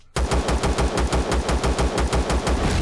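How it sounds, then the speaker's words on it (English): Rapid automatic gunfire in the space survival game Empyrion, shooting out a device: a steady, loud, close burst of evenly spaced shots for nearly three seconds, with no talking. "I should probably shoot this out so that it doesn't turn back on"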